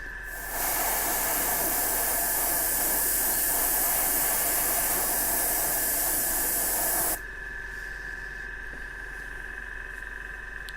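An airbrush sprays paint straight down onto a Two-Face miniature as a loud, steady hiss that runs for about seven seconds, then cuts off to a much quieter background hum.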